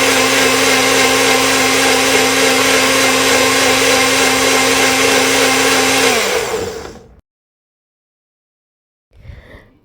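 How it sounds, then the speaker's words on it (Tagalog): Blender whirring through a green detox smoothie of greens and water, a loud steady high-pitched motor roar for about six seconds that winds down and stops, followed by silence and a brief faint clatter. "And pagkatapos, i-blend."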